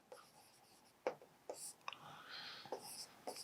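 Chalk or marker writing on a board during a maths lecture on definite integration, soft scratchy strokes and taps in short bursts, faint and close, with no speech over it.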